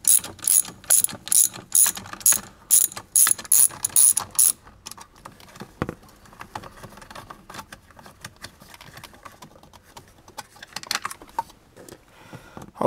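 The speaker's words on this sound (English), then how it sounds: "with this one, we use a 7mm socket." Ratchet wrench fitted with a 7mm socket backing screws out of a car's steering angle sensor area, giving a run of rapid, loud clicking bursts over the first five seconds, then quieter intermittent handling and faint clicks.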